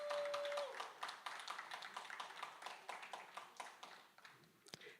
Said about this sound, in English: I want to give a round of applause for all the passengers who are here today.